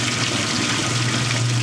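A Whirlpool direct drive washing machine fills with water, a steady continuous rush of running water with a low motor hum underneath, even and unbroken throughout.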